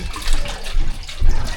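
Water poured into a blender jar at home before blending melon, a splashing liquid rush in uneven surges, close and fairly loud with no talk.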